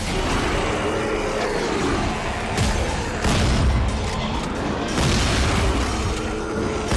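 A shotgun fires in the video game Dead Space 3, with several heavy, booming blasts spaced a second or two apart over a thick, noisy background of game combat sounds.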